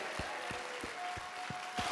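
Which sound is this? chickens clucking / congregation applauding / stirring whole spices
congregation applauding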